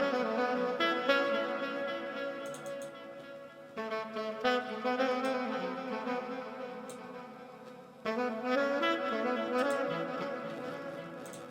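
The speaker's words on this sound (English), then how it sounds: "And then I added arcade for the saxophone and it sounds like this." Arcade plugin saxophone preset stacking several saxophone types, playing bright, breathy sustained phrases in a few swelling sections with short gaps, loud and close with no talking.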